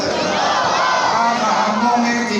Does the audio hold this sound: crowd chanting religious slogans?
yes